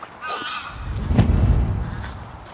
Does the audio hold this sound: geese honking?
yes